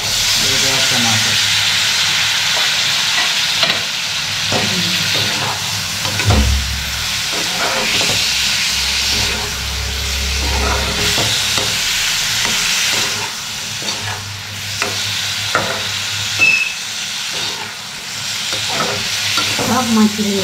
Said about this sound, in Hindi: इसमें डालेंगे तो फ्राई कर दिए तेल में